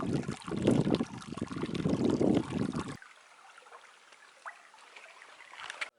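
Rain-swollen creek running through rural Northern Arizona land, a dense rushing wash for the first half that cuts off abruptly into faint trickling and quiet outdoor ambience.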